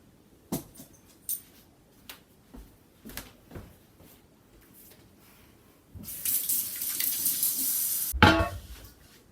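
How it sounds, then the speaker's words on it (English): Running tap water splashes into a kitchen sink during handwashing before baking brownies, a steady rush for about two seconds after scattered soft clicks and handling sounds, ending in a brief louder gush. "Let's get started by washing our hands."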